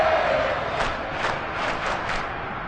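Roaring crowd at a Bills vs Dolphins football game, a dense wall of cheering voices with a few louder swells, steady and without commentary.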